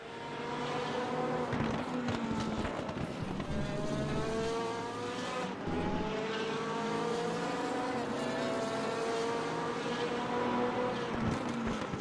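GT race cars in a racing video game roar around Brands Hatch, a continuous loud, raw engine drone with rising and falling pitch as the cars hold close together, with no commentary over it.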